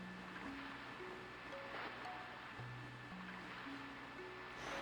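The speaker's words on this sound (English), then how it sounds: "If we hear that water that far away and there's no water here at all" Distant water lapping in Chronicles of the Sword, a soft, steady wash of waves far off beneath a gentle game melody.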